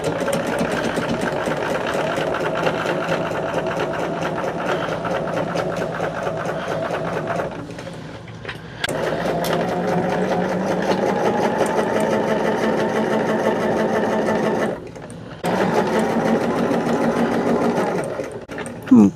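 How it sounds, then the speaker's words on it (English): Sewing machine sewing a long straight seam across fabric, a loud close whirring hum that runs steadily with two brief stops. "I'm just going to sew straight across it"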